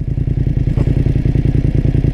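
A two-month-old motorcycle engine struggles to start, a loud rapid chugging rhythm of labored firing pulses that runs steadily and close by with no speech.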